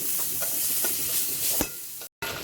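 Cubes of bread toast with garlic in a dry pan without any fat, for Egyptian fatteh, giving a steady close sizzling hiss broken by stirring strokes and one brief silent gap.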